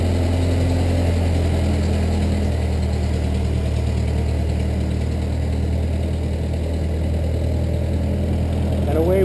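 A 1922 Ford Model T engine runs steadily with a low, rumbling idle-like drone while the car reverses, a continuous near mechanical hum with slight knocking throughout.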